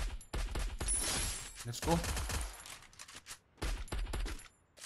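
VSS rifle gunfire in Free Fire comes as two rapid strings of close, sharp shots, a long burst followed by a shorter one after a brief gap, with a voice speaking briefly between them.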